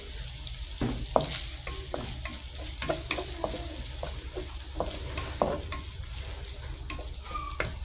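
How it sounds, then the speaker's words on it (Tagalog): Chicken frying in a pan for breakfast fried rice, a steady close sizzle broken by frequent clacks and scrapes of a utensil stirring, with no talk over it. "Saka na ilalagay yung pirang chicken fried."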